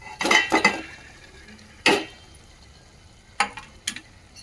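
Marinated fish pieces dropped into hot oil in a pan for a Telugu chepala pulusu fish curry, a few sharp close clatters and sizzling bursts spaced apart with quiet between.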